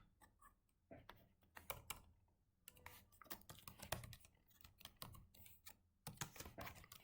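Steady bursts of typing on a computer keyboard while writing a short message in Microsoft Power Apps, with quick clustered key clicks and brief pauses between words, fairly close and moderately quiet, no talking.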